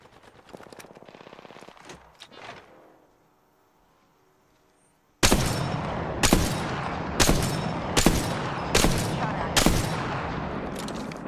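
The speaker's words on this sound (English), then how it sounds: "Opening fire." Automatic gunfire in the video game Apex Legends, a first-person battle royale, with a muffled stretch before a pause, then loud, close bursts of rapid shots repeating in regular clusters.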